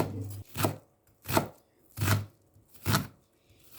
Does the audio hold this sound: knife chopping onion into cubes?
yes